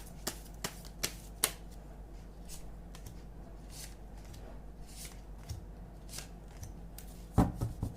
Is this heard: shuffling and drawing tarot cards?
yes